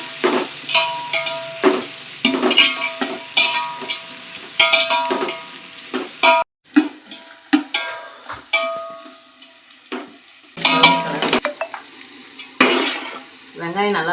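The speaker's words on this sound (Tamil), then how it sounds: "நல்லா ரோஸ் கலரில் ஆகிற மாதிரி வதக்கணும்." Onions sautéing in a pan for nattu kozhi biryani, stirred with repeated loud metallic scrapes and knocks against the pan over a crackling sizzle, close up, with one short pause midway and no speech.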